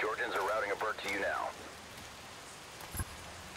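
Steady rain hiss in the Ghost Recon Future Soldier video game, a soft even wash running alone after a short burst of game voice chatter and with one brief thump near the end.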